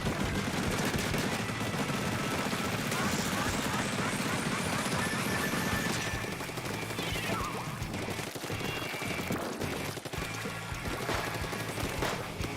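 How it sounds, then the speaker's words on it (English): A rapid blaster in Splatoon 3 fires with loud, sharp pops that punctuate a busy match amid ink-splatter and weapon noise; several distinct cracks land in the latter half over a continuous clatter. "I think that's the rapid blaster. Different type of blaster. They both have a big, scary pop noise"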